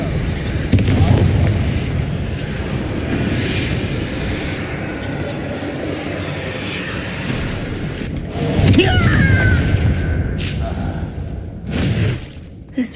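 Confringo spell blasts in the video game Hogwarts Legacy: booming explosions and crackling impacts over a constant loud rumbling game backdrop, with a stronger burst around the middle and sharp hits near the end.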